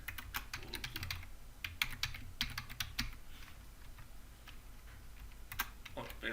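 A computer keyboard clicks as code is typed, irregular bursts of close keystrokes, some fast clusters and brief pauses, over a faint steady room hum.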